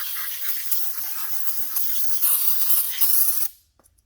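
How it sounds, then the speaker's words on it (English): Aerosol can of brake parts cleaner sprayed onto a tarp in a continuous close hiss with slight pulsing, lasting about three and a half seconds before cutting off, no voices. "And I've got my brake parts cleaner here."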